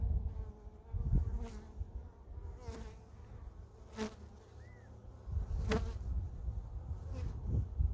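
Honeybees buzz steadily around a hive, a dense low hum with individual bees droning past up close.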